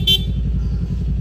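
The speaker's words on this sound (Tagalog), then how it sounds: "Pabusina nga ako." A Kawasaki Z400 motorcycle horn gives one short, loud honk at the start. A steady low engine idle rumbles close by throughout.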